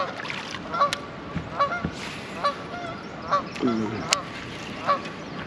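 Several geese honk repeatedly in loud, irregular calls near a lake's nesting island, flushed by a passing kayak, with steady background noise beneath the calls.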